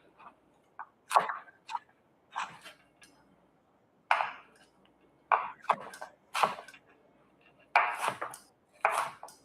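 A knife chops onion on a cutting board in irregular clusters of sharp, close taps separated by short pauses, with no talking.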